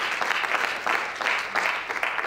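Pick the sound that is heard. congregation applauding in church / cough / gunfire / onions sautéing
congregation applauding in church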